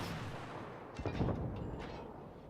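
Naval guns firing in World of Warships, a single deep, booming salvo that rolls out over a low rumbling background, moderately loud and without talk.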